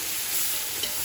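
Mint and coriander leaves sautéing in a pan for homemade chicken biryani: a brief, steady, close-up hissing sizzle with a faint stir, alone and without talk.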